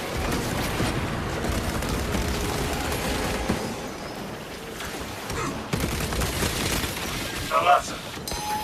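Dense, rapid gunfire from a Warhammer 40,000 video game as a swarm mine is shot at, with sustained bursts, booms and clinking impacts layered over battle noise.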